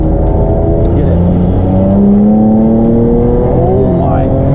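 A tuned BMW N54 car with an upgraded fuel system pulls hard in fourth gear from low revs, the loud engine note climbing steadily in pitch close to the microphone, with voices in the cabin.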